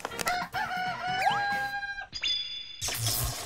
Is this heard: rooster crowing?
yes